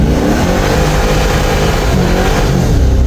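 A Ford Mustang engine revs hard at full throttle in second gear, a loud, sustained, dense roar that holds steady and close without a break.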